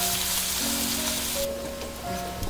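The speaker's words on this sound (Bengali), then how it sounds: "পেঁয়াজটাকে বাদামি করে প্রথমে ভেজে নিতে হবে।" Chopped onions fry in oil in a pan for a Bengali rui fish curry, giving a constant bright crackling sizzle that fades slightly partway through, with faint faraway tonal hums and a small clatter at the end.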